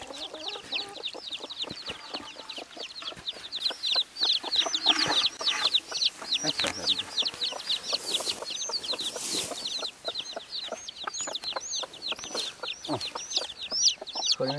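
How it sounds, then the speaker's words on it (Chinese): A free-range hen raised in the mountains clucks steadily and close by, a rapid stream of repeated short calls kept up throughout, with more poultry chatter and rustling around her. "这个母鸡要咬我了，母鸡。"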